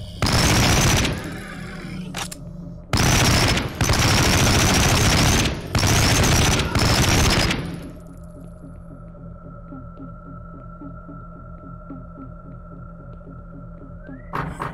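Bursts of rapid automatic gunfire in the shooter game Project Warlock, fired at a teleporter. Four loud sustained volleys are broken by short gaps, then give way to a low droning ambient hum.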